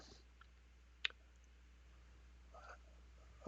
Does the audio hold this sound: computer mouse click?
yes